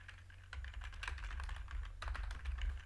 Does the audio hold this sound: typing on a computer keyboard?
yes